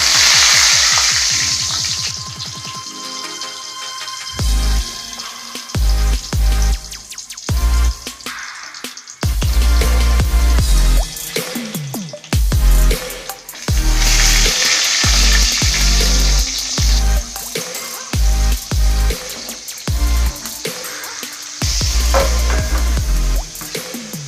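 Halved brinjal slices rubbed with salt fry in hot oil in a pan, a loud close sizzle that surges and breaks off repeatedly as pieces are added and shifted, with no one speaking.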